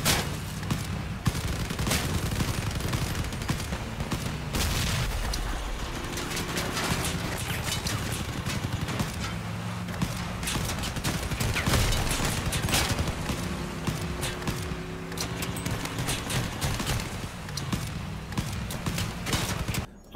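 A Summator nailgun in the video game Crossout fires in rapid, repeated bursts of sharp metallic shots, dense and continuous over steady engine and battle noise, with brief pauses between volleys.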